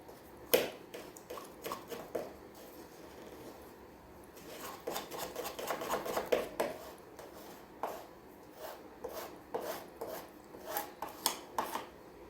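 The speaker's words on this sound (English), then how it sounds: "I'm going to take a screwdriver and stir it up a little bit" A screwdriver stirs and scrapes hardened filler inside a container, producing irregular gritty scraping and tapping bursts that grow busier midway, close and fairly quiet, with no voices.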